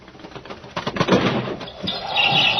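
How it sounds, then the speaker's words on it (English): Radio drama sound effect of a bird trying to get in at a rattling window, with short irregular fluttering taps and rattles building over a couple of seconds, alone and fairly close. "There's some bird out there trying to get in."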